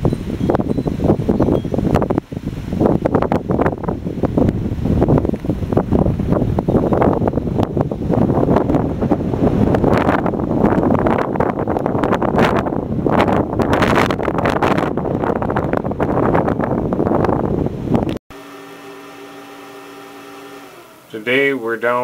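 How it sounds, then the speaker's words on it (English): Wind roars and buffets the microphone at a site with a WindMax 2 kW grid-tie wind turbine, gusting 9 to 20 mph. The noise is loud and continuous for most of the clip, then drops away as a voice speaks at the end. "Wind speeds are varying anywhere from 9 up to 20 miles an hour."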